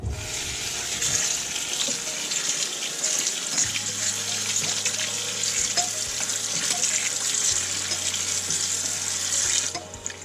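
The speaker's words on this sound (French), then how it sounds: "Et on va rincer avec de l'eau froide." Cold tap water rushes steadily into a colander holding blanched tomatoes in a kitchen sink, a close, continuous hiss and splash with no talking.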